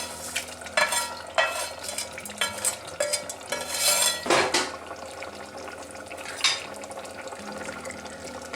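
Mustard seed tempering with curry leaves is poured into a winter melon curry and stirred in, giving soft stirring, spoon and pot clinks and a brief sizzle in a quiet kitchen, with no talk.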